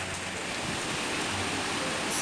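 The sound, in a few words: rain and wind outside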